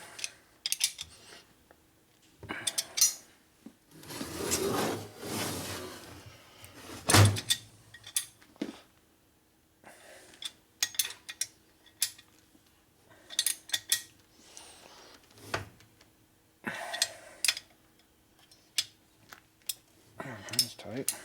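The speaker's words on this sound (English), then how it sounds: "now I go ahead and put some torque on this" Bolts tightened with a torque wrench on a 1977 1000cc Harley Sportster Ironhead motor during a rebuild, with repeated clicking and ratcheting bursts, some metallic clanks, and someone talking between them.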